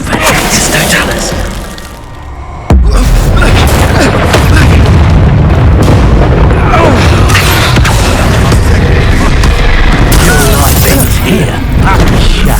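Expulso blasting spell detonating in Hogwarts Legacy, a sudden loud boom followed by a sustained roaring rumble of debris and crackling, with game voices mixed in.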